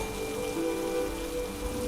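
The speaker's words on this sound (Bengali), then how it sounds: "খুব জোরে বৃষ্টিও পড়ছে" Heavy rain pours steadily in a Bengali horror cartoon, a dense, continuous hiss of drops on surfaces with no pauses, close and enveloping throughout.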